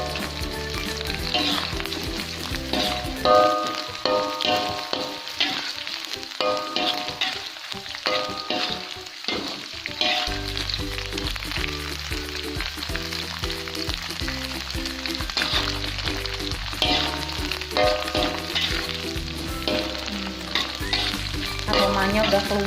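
Anchovies frying in a pan for Sundanese nasi liwet, with a steady loud sizzle and repeated scraping as they are stirred and turned, continuous throughout.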